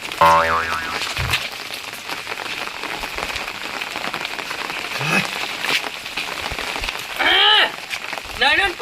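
Scattered rain patters steadily on a surface throughout, loud and close. Cartoonish boing sound effects and brief bursts of faint voices sit on top of the rain.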